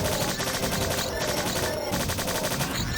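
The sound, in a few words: machine gun firing at robots in video game Strife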